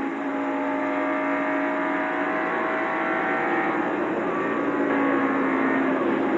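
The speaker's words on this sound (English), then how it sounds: "driving the Heinz Pontiac, and we pick up his progress now and from his in-car camera" Engine of the Heinz Pontiac NASCAR stock car roaring steadily at racing speed from the in-car camera during the 1990 Heinz Southern 500, a loud continuous drone with no talk.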